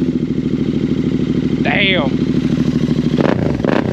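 Royal Enfield Interceptor 650 motorcycle fitted with a Lextek aftermarket exhaust, idling with a steady, close, throbbing beat throughout, with a brief blip near the end; a man exclaims briefly over it.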